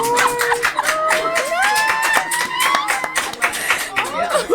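Applause from an audience right after a marriage proposal at a reunion show, broadband clapping running throughout under excited voices, crying and cheering.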